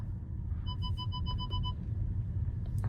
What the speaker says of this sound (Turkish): Park sensörü her yere ötüyor.